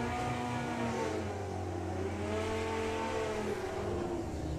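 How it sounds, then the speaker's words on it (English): A Kawasaki drag racing motorcycle launches at Santa Pod Raceway during a drag racing meet. The engine drones steadily and its pitch rises and falls, heard from a distance and fairly faint, with no talk over it. "Andy Burfett on the Kawasaki in the Auto Glim lane, dialing in"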